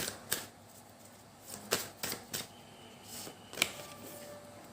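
Tarot cards being drawn and shuffled, a handful of separate crisp flicks and snaps spaced a second or so apart, close and fairly quiet with soft handling noise between them.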